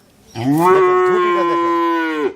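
A twelve-month-old Jugi Mundi heifer lets out one long, loud, close moo that holds steady for about two seconds before cutting off, with no talk over it.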